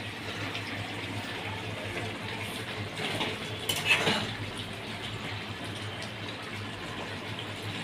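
Hot water poured into a pot of half-cooked Bhogi vegetables, a steady liquid rush with a brief louder splash and clatter midway, close by and without talk.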